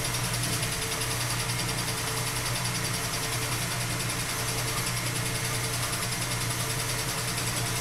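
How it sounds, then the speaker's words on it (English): A milling machine takes a fly cut across the top of a metal hair dryer bracket, giving a steady, fairly quiet mechanical hum with a broad hiss of cutting that continues evenly throughout. "A nice fly cut right across the top."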